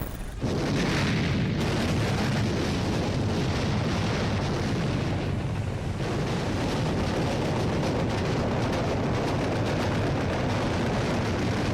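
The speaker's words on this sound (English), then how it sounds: "The power of the cannons shattered the silence of a calm morning" Naval cannon gunfire in a wartime bombardment: a dense, continuous roar of booming blasts and rumble that fills the whole stretch at steady loudness, with no voices.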